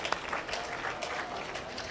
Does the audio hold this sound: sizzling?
no